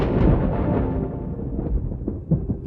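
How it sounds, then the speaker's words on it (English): A deep rolling crack of thunder over a harbor, loud at first and rumbling low and heavy as it slowly fades, with a few scattered knocks near the end. "That last crack of thunder shook Theodore's stack."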